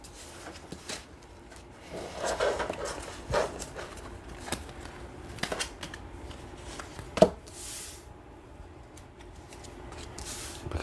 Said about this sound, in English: here we are again at this moment where the cards are not shuffling right.